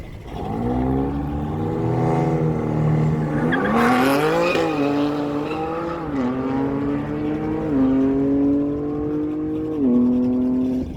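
A BMW M4 Competition roars off the line at a no-prep drag strip, its engine climbing through several sharp rev surges and gear changes. Tires squeal at the launch and the car stays loud and close.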